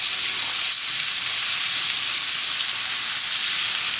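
Onions and mushrooms sizzle steadily in a hot pan for a chicken thigh dish, a loud, even frying hiss that continues without a break and with no voices.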